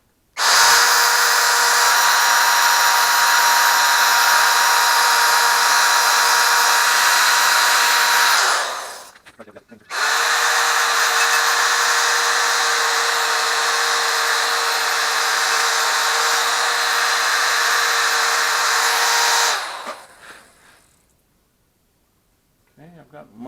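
High-speed power tool smoothing casting flash inside an LS 243 cylinder head port, a loud steady whine running for about eight seconds, a brief stop, then another ten-second run before winding down to quiet.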